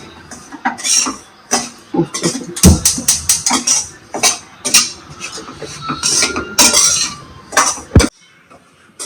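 Semolina (suji rava) roasting in melted ghee in a pan, stirred with a run of sharp metallic clinks and scrapes of a spoon against the pan, fairly close and irregular, with a brief pause near the end.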